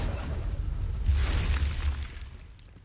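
A deep, rumbling explosive blast from the Confringo spell in Hogwarts Legacy on PS5 swells and fades over a few seconds, heavy and close.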